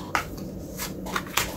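Three tarot cards dealt one after another, each landing with a short crisp slap or swish, spaced irregularly and close by with no talking.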